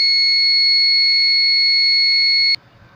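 A loud, steady electronic buzzer alarm tone from a substation temperature monitoring system sounds continuously, then cuts off abruptly near the end, leaving quiet background.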